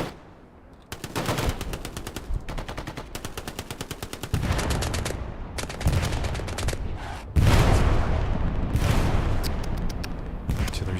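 Artillery strike in the WWII shooter Hell Let Loose on Juno Beach, a loud stream of rapid machine-gun-like bursts and heavy impacts stacking up in waves, dense and continuous.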